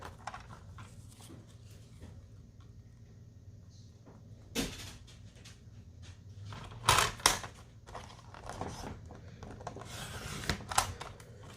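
Pieces being cut out for assembly from a metal-die set: quiet scattered snips and paper rustles, with a few sharp, crisp bursts midway and a busier patch of cutting near the end, close by and with no talking.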